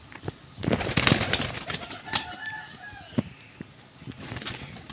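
Pigeons feeding close by, with soft cooing calls, a few brief wing flutters and scattered pecking noises through a few seconds.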